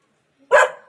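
A single short bark from a golden Labrador puppy, close and loud, with a bright yip-like burst that trails off quickly.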